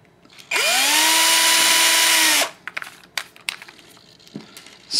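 An electric drill threads rod into rod ends, spinning up sharply and holding a loud, steady whine for about two seconds before stopping, followed by scattered small clicks and handling noises.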